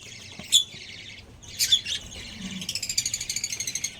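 Pet birds being given egg food chirp and squawk close by, with scattered sharp calls at first and then a fast, steady run of high tweets toward the end, no talk.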